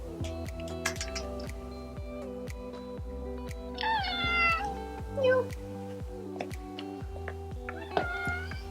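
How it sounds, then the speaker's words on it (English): A neighbor's cat meows several times indoors, close and clear, with a longer wavering cry midway and another near the end over a quiet background of light ticking and tapping. "Okay, so it's my neighbor's cat."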